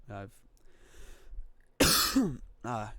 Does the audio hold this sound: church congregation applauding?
no